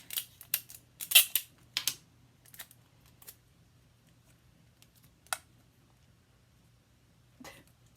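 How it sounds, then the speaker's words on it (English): Scotch tape handled close by as a bride's makeup is tested: a quick cluster of sharp crackling pulls and tears early on, then a lone snap and a faint rustle amid near silence. "I'm going to go in and put some, not that big, Scotch tape down."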